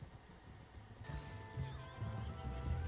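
A horse whinnying in the RedM Western roleplay game near a river, a long clear neigh starting after a quiet moment, moderately close, with faint hoof and background sounds and no talking.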